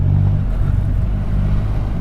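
A Triumph Rocket 3 GT motorcycle engine at around 2,000 revs in second gear gives a deep, close, steady low rumble that stays even throughout, with no talk over it.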